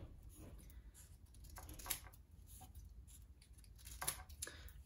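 Scissors cut squares of brown tissue paper, producing quiet, close snips and crisp paper rustles, with a couple of sharper cuts standing out against a faint background.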